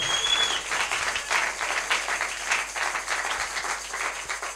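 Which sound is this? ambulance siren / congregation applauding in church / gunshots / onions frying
congregation applauding in church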